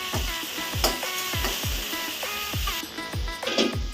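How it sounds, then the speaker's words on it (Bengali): Red lentils frying in a pan with green chillies and chopped onion, hissing steadily while a spoon scrapes and knocks against the pan in a regular rhythm, close and clear. "মসুরের ডাল, ভালোভাবে একটু ভুনে নেব"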